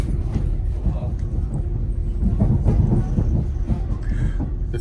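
A train rolls into Sheffield station, its low rumble and faint wheel clatter steady and close from inside the carriage.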